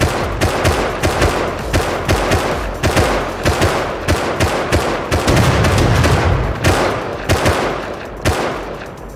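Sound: gunshots in the video game Rust

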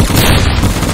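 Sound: Executioner gun firing in the video game Phantom Forces

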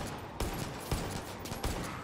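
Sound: M1A1 rifle gunfire from the video game Far Cry 5

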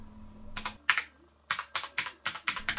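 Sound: typing on a new computer keyboard

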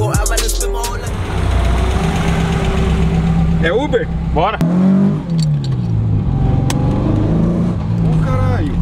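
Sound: VW Gol car with Subaru engine running

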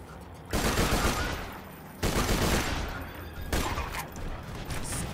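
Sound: enemy gunfire in video game Borderlands 2

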